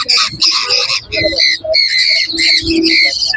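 Conure parrots at a Kolkata bird market give loud, harsh squawks in rapid bursts that repeat across the whole stretch, close to the listener and heard with no talking.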